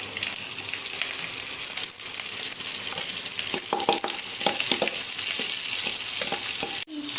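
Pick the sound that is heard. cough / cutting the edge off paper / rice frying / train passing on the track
rice frying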